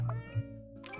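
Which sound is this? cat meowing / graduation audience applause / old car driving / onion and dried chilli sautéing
cat meowing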